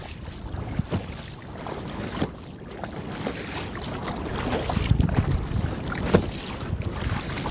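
A kayak paddle splashes and dips through open sea water in uneven strokes, close to the microphone, mixed with gusty wind noise and lapping waves.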